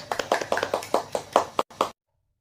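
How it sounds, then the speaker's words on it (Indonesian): Classmates in a classroom clap for a student, a brisk burst of overlapping handclaps that swells and then stops abruptly, followed by silence. "untuk teman-teman bisa memberi tepuk tangan ya kepada Putri yang telah berani untuk maju ke depan"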